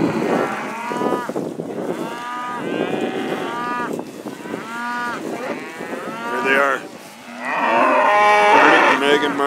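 Crossbred second-calver bred cows gathering around buckets of grain thrown out on a December day, mooing repeatedly in long overlapping calls from several animals, some near and loud, over a little wind.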